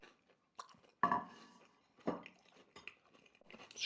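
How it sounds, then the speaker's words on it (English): Close, crisp crunches come from biting into a Bibigo Korean-style potato corn dog, two or three loud bites separated by quieter chewing. "Nice crunch factor."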